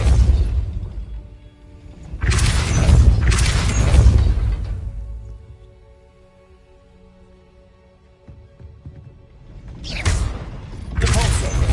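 A Depulso spell cast in Hogwarts Legacy, heard as heavy whooshing blasts with booming, shattering impacts and mechanical rumbles, loud and close, arriving in two bursts separated by a quieter lull.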